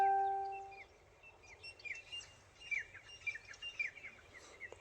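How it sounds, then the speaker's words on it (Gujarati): Sparrows and herons call in the early morning with short, bright chirps scattered across a quiet background, after a brief steady tone at the start, moderately close and with no talking. "ચકલા ને બકલા જો સવારમાં બધા ઉઠી ગયા"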